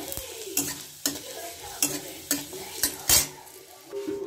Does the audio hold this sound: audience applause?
no